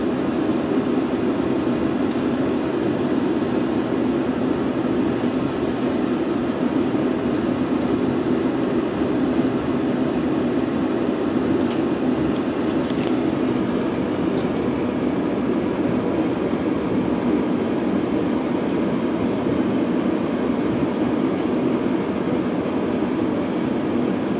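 West Midlands Railway class 350 electric multiple unit 350 101 running on the Birmingham New Street to Wolverhampton service, heard as a steady interior rumble and hum that holds level throughout with no voices.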